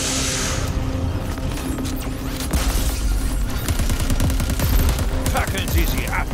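Rapid bursts of game gunfire from Crackdown 3 crackle in dense volleys over a busy mix of explosions and effects, growing sharper and louder toward the end.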